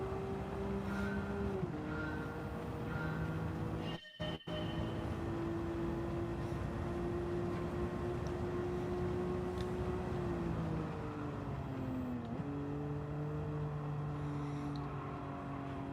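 Race car engine in the Gran Turismo video game, a steady sustained drone that shifts pitch with gear changes and throttle lifts, with a brief cut near the middle; continuous and fairly loud with no talking.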